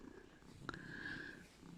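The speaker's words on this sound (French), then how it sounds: "Puis il ronronne." A pet cat purrs softly up close, a low steady rumble over a quiet room, with one brief tick in the middle and no talking.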